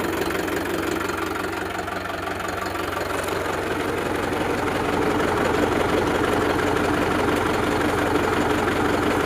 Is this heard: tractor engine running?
yes